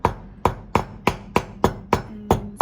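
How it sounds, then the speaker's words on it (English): A rawhide mallet strikes steel wire laid flat on a hard surface as the wire is rolled and turned, giving nine sharp, evenly spaced knocks about every third of a second, close and fairly loud with no talking. "I'm using a rawhide mallet so I don't distort the shape of it, and I'm going to lay it down and I'm going to rotate and hammer."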